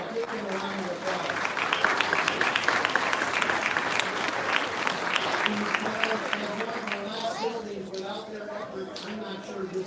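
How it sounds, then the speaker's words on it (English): Sustained audience applause at a library branch reopening ceremony, dense and steady clapping from a sizable crowd that fills the whole stretch without pause, with some voices and murmuring mixed in. "So give them a round of applause."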